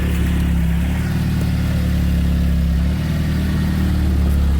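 Mazda Miata engine running steadily at a loud, close, even idle with a low droning rumble that holds throughout, with no talk.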